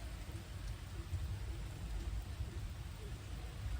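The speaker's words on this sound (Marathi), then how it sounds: "पाऊस आला बघ" Rain falls outdoors as a steady, low, even hiss with a rumbling undertone, faint and continuous throughout with no clear individual drops.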